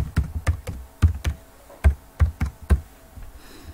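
A password being typed on a computer keyboard: about a dozen sharp, close keystrokes in uneven bursts, then a brief quiet pause, with no talking.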